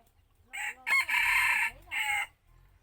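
Rooster crowing close by among chickens, with a few short clucks first and then one long, loud cock-a-doodle-doo in several strong bursts, with quiet background between.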